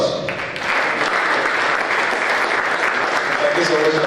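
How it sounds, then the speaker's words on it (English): Lit festival audience applauding a speaker, a dense steady wash of many hands clapping throughout with a voice faintly under it. "ladies and gentlemen, big round of applause"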